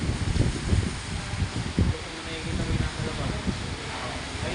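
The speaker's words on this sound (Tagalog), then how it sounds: "Grabe yung hangin" Strong wind roars in low, continuous gusts that buffet the microphone, with several sharp thumps, and speech is faintly mixed in.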